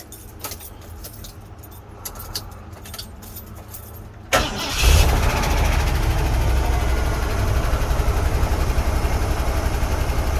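A car engine cranks and catches around the four-second mark after a turn of the key, then runs steadily and loudly to the end; the car has a brand-new starter, a slight tapping noise and has sat unused for a month. Keys jingle beforehand.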